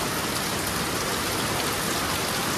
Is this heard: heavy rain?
yes